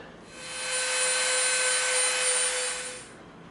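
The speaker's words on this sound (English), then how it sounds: "Now we're going to clean this up with the Dremel a little bit." A Dremel rotary tool with a smoothing bit grinds EVA foam for a Fallout laser pistol prop, giving a steady high whirring buzz with a thin whine that rises, holds for about three seconds, then fades, close and alone.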